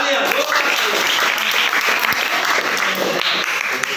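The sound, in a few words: classroom applause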